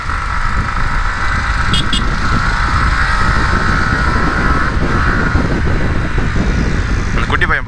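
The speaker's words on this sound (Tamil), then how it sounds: "வண்டியில் நிறைய சவுண்டு வருதுன்னு நினைக்கிறேன். அந்த ஆர்பிஎம் அதிகமாக வச்சு ஓட்டும் போது எல்லாரும் பார்க்குறாங்க" A motorcycle engine revved hard at high rpm while riding, a loud steady drone with rushing wind noise throughout, close to the rider.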